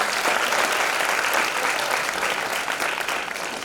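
College students applauding together in a dense, continuous wash of clapping at full strength throughout, easing only slightly at the end, with no talk.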